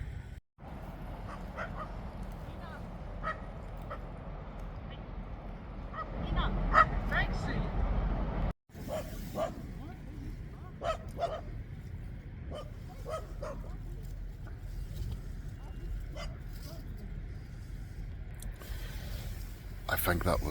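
A dog barks and yips in short scattered bursts on a cold Irish beach shoreline, moderately near over steady wind and surf noise, with a person talking at times.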